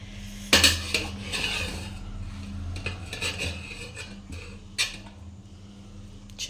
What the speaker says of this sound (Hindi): थोड़ा चावल निकाल लेते हैं, हाथ से नहीं निकल पाएगा तो हम चम्मच से निकाल लेते हैं